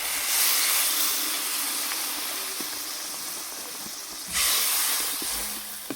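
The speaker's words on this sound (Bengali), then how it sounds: "এবার এখানে আমি জল দিয়ে দিই।" Water poured into a hot pan of fried spices and potatoes for a rohu fish curry, giving a steady broadband hiss and sizzle that runs throughout, swelling again toward the end, close and fairly loud.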